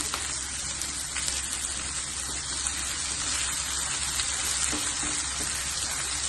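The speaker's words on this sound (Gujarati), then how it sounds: "અદરક અને લીલા મરચાંની પેસ્ટ નાખીશું અંદર, એ પણ આપણે સાતળી લઈશું" Ginger and green chilli paste sizzles in a pan with a soft, steady crackle of frying and faint stirring noises, continuing unbroken at a modest level.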